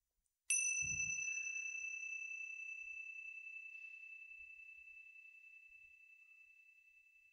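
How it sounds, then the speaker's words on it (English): A meditation bell struck once, giving a clear bright ping with a low thump at the strike, then a pure sustained ring that fades slowly over several seconds in an otherwise silent room. "so the sound of the bell goes on for something like 15 seconds"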